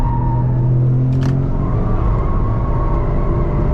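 Engine of a 2023 Toyota GR Corolla Morizo at full throttle on a circuit, a loud sustained drone heard from inside the car with a brief high-pitched whir in the middle.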